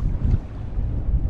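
Wind blows across a South Dakota lake around a drifting fishing kayak, a steady low buffeting rumble with soft water sounds and no talking.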